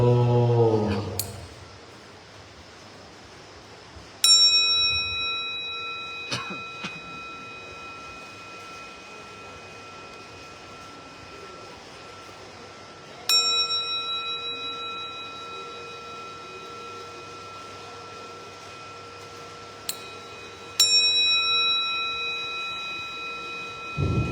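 A temple bell at a Thai forest monastery struck three times at spaced intervals, each strike ringing out with a long, shimmering decay over a quiet, faintly hissing background.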